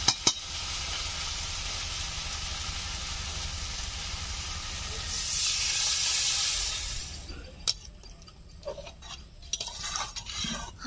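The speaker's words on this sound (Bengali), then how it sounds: "এখন দিয়ে দেবো জল।" Water poured into a hot pan of potato curry, a loud continuous hiss and sizzle that swells, then cuts off into quieter clinks of a utensil against the pan, close by.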